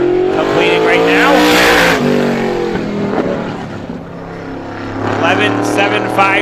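A supermodified race car at Star Speedway screams through an ISMA time trial lap, its engine note loud and sweeping past with rising and falling pitch, while a track announcer talks over the roar.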